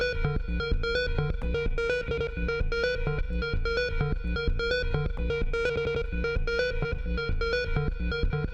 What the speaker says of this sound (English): Let's experiment with resampling, starting with scatter effects.